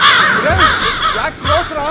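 A large flock of crows, thick enough to darken the sky, caws loudly and close by in overlapping harsh calls that rise and fall, with faint voices underneath.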